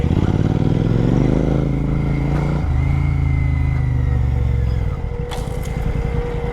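A Royal Enfield GT 650 twin with an RRP exhaust rumbles loudly and close through dense forest, its deep steady engine note shifting pitch as the throttle changes before easing off near the end.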